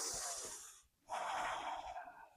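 A deep, breathy inhale during a vinyasa yoga practice, a long airy draw that breaks off into a short pause, then resumes as a steady, close full-chested breath.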